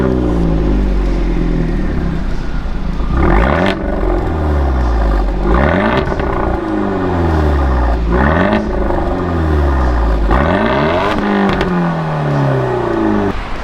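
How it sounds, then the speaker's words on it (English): A Fiat 124 Abarth fitted with a Euro Compulsion catback exhaust revs repeatedly, each loud throttle blip sweeping up and falling back in a rhythmic series of about five pulls, close and deep with a rumbling idle between. "that is a pretty nice exhaust note"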